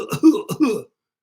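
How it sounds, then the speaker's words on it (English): A person gives a dry cough in two quick, close bursts, followed by silence. "Dry cough."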